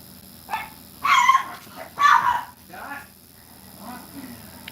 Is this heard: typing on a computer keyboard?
no